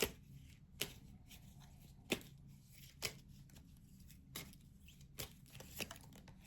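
Tarot cards are shuffled and drawn in soft, faint bursts of riffling and papery snaps, recurring about once a second against a quiet background hum.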